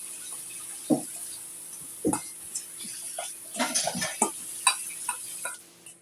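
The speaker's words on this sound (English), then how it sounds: "And we're going to stir all this right here together." A spoon stirs lobster salad with mayonnaise in a bowl, giving scattered close clinks and scrapes against the bowl with soft wet mixing between them and a faint steady hum behind.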